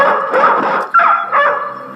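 Dogs in a dubbed action film scene let out a few sharp, close barks and yips in quick succession, loud and alone.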